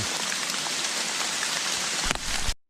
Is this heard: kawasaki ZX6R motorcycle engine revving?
no